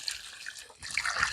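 Water pouring and trickling into a dry concrete mix in a posthole, a soft splashing flow that thickens after a short pause, with no talking.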